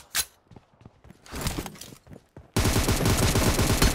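Gunfire in a PUBG team deathmatch with M4 and M7 rifles: a few scattered sharp shots and short bursts, then a sudden, loud, continuous barrage of rapid automatic fire.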